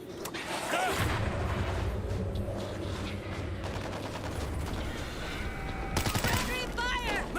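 Rapid gunfire and booming explosions from the zombie shooter World War Z, dense and continuous, with a voice shouting over the chaotic battle noise.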